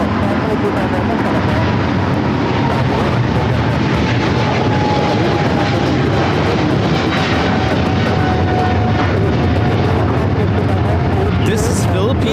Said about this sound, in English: This is Philippine Airlines Flight 113 taking off to Manila on the 777-300ER